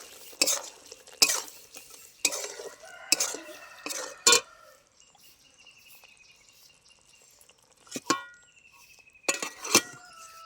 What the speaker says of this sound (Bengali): গরম মশলার গুঁড়ো দিয়ে দিচ্ছি, একটু নেড়ে দেবো।